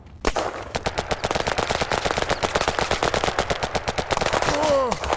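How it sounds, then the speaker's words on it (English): Rapid automatic gunfire from the video game Battlerush 2 rattles in a dense, steady stream of loud shots for several seconds, with a brief pitched sweep near the end. "Where's this gunfire coming from?"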